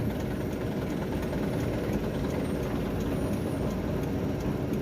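A large fuel tanker truck on a congested, damaged road toward Takengon: constant heavy diesel engine rumble, near and steady, with no talk.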